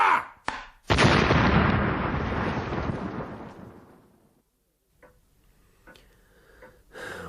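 A loud artillery battery fires in a film battle scene: one sharp report, then a massive booming blast that rolls and fades over several seconds, followed by quieter scattered sounds.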